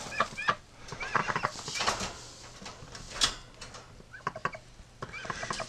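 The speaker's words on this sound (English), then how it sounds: "What a crazy little duck." A large female Pekin duck makes short, raspy clucking and quacking calls in uneven bursts, close by, with occasional handling noise.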